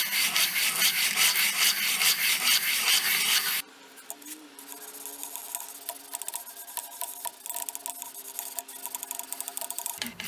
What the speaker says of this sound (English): Go ahead and do some preliminary sanding. Get some of your file marks out of there.